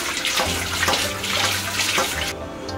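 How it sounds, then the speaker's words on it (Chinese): Running tap water splashing into a small basin as pork liver is rinsed in clean water, a steady close rush with light sloshing before it cuts off near the end. "用清水给猪肝漂洗一次。"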